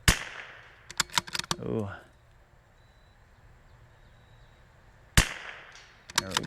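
.22LR rifle shots at a steel spinner target, a quick burst of sharp cracks followed by a metallic ring and clatter, a long quiet pause, then another few shots; a voice briefly exclaims.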